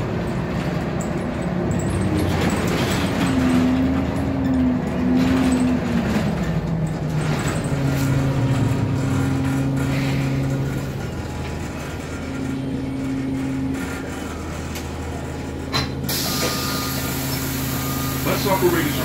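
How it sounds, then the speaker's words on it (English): MTA city bus driving through Bayside, New York, heard from inside behind the driver: steady engine rumble and road noise with tonal whines shifting as it moves, and someone talking at times. "Standing behind the bus driver on the MTA bus."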